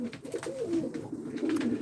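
Pigeons cooing close by, soft rolling low-pitched calls overlapping continuously with no talking.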